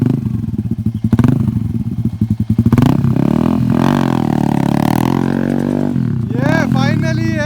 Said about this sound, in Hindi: अभी व्हीली पे भी दिखाऊंगा।